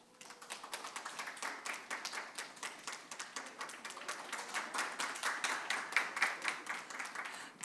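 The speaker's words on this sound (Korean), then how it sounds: "큰 박수 부탁드리겠습니다" Sparse applause from a small workshop audience greets a guest speaker, individual claps distinct and fairly rhythmic, quiet and somewhat distant, continuing steadily without voices.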